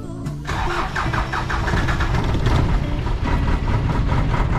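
Car that keeps stalling on a road near Dipolog City is cranked and restarted, the starter churning before the engine catches and runs at a loud, steady, close idle.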